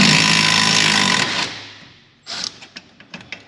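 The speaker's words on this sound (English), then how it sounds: "just to speed it up, using an impact gun." Impact gun loosening factory-tight bolts on a Can-Am X3 side-by-side, a loud continuous whir for about a second and a half that fades out, then several short sharp clicks and knocks close by.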